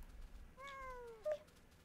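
A single cat meow sounds in the video game Wobbly Life, a clear falling cry with a short squeak right after it, over a faint background with no talk.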